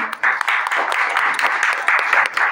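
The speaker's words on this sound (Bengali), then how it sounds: "একটা জোরে হাততালি" A group claps loudly at a memorable celebration, a brisk, continuous patter of hands that is close and steady with a brief dip near the start.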